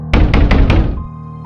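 Four heavy bangs land on a wooden door of a neighbouring empty house, evenly spaced and loud, each a hollow thump with a short ring, then a faint hum lingers after the knocking stops.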